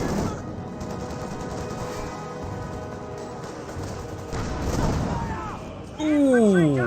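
In the Company of Heroes 2 video game, a Panzer IV shell hits an infantry squad amid a dense, rumbling battle mix of gunfire and explosions. A sharper crash lands near the end over continuous background combat noise.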